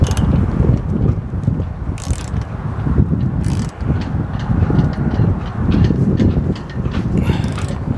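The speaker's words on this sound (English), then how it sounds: "then you want to tighten your eye bolt" Close, loud mechanical clicking and ratcheting as a Dinghy Butler pad eye bolt is tightened down, repetitive grinding clicks in an ongoing rhythm with brief pauses.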